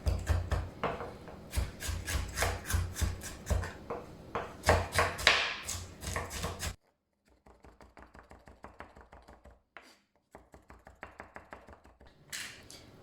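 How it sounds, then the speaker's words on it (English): Fresh ginger and garlic being chopped finely with a knife on a board, a run of quick rhythmic taps that pauses, then resumes more softly at close range, with no talking. "I'm gonna chop it up really finely so that you don't get ginger or garlic pieces in your mouth"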